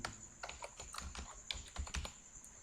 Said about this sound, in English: So all I will do is just to type my name.